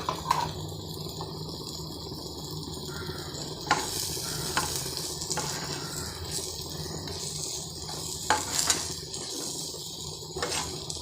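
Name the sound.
jaggery melting and being stirred in a hot pan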